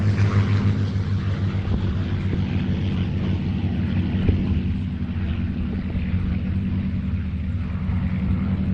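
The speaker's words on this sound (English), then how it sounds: "coming in from the west, start of our Battle of Britain tribute, Spitfire Mark 8" A Spitfire Mark 8 and a 1950s Hispano-built Messerschmitt fly past at an airshow in a Battle of Britain tribute, their piston engines a steady, droning propeller rumble that holds throughout at moderate distance.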